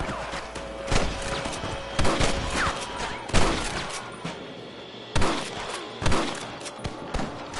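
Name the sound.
gunfire in the video game Red Dead Redemption 2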